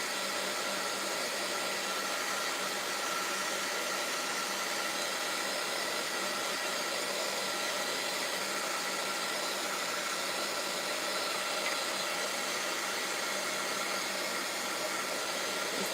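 A hair dryer blows steadily for the whole stretch, drying fresh paint on boxes, a constant broad whooshing hiss at moderate level with no talking over it.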